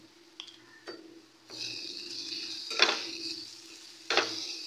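Ground spices with salt, cumin, coriander and Kashmiri chilli fry and are stirred in a pan for prawn malai curry, a lively sizzle punctuated by metal spoon scrapes and knocks against the pan.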